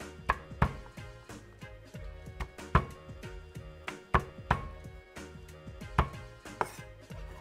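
A kitchen knife finely minces crushed garlic on a board, with sharp, close, evenly spaced chops in a steady rhythm and no talking.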